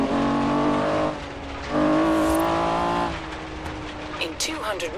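A 2005 Honda NSX-R engine drones steadily in Forza Horizon 3, its harmonic tone rising and dropping between gear changes, with someone talking over much of it.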